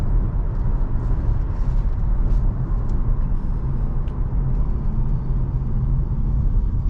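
A 2015 Ford Explorer Police Interceptor cruising on the road, its cabin filled with a loud, steady low rumble of engine and tire noise, with a few faint ticks over it.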